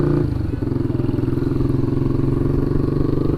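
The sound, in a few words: Yamaha R3 motorcycle exhaust note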